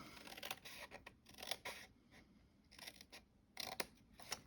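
Scissors snipping through paper to trim a tab for a handmade Christmas lantern, several short crisp cuts in quick bursts with brief pauses, close and fairly quiet.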